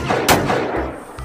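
A toy sniper rifle fires with a sharp, close crack followed by a second quick pop and a short fading echo.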